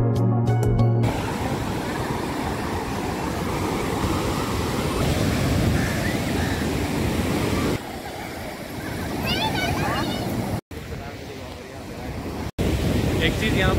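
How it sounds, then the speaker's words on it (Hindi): Sea waves break at Marina Beach in Chennai as a continuous loud surf roar mixed with heavy wind buffeting on the microphone, with brief cuts and people talking over it. "यार ये आवाज क्यों करता है समुद्र इतना?"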